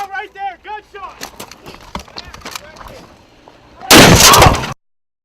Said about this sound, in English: Hey, gunshot right here! Get in! Sniper! Sniper! Hey, we took a round right there. Gunshot!